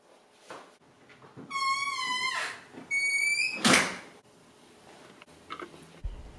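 A door creaks open with two drawn-out squeals, then closes with a single loud thud, followed by quiet room noise.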